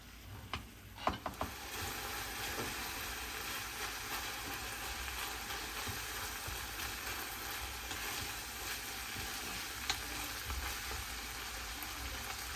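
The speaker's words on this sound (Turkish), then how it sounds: "Şu an kıymamızı ekledim. Biraz kavrulsun." Ground meat frying in a pan for a layered eggplant dish, with a continuous crackling sizzle and a few clattering stirs and spatula knocks near the start and again toward the end.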